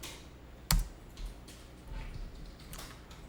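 A single sharp key press, like an enter key struck on a computer keyboard, cracks out near the start, followed by a few faint taps and quiet room noise during accounting data entry.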